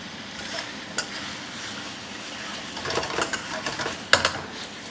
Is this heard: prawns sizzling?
yes